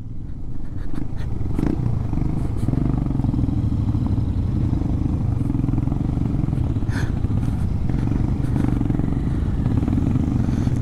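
A motorcycle engine drones steadily and close throughout a ride on a forest road with ranger officers, a loud continuous low rumble with occasional rattles and clatter from the rough track.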